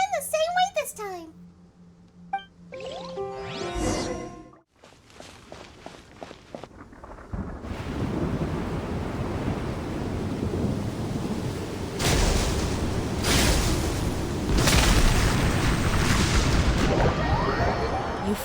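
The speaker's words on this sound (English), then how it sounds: "You flee from the storm together with Paimon." Stormy weather in the Genshin Impact video game: after spoken dialogue and game chimes, a dense roar of wind and rain builds and stays loud and steady, with swells like rumbling thunder near the end.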